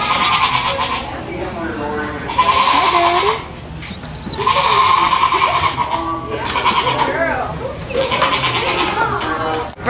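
Goats at a county fair in Hermiston bleat repeatedly and loudly up close, with several long wavering cries overlapping in a noisy barn, and people chatter underneath.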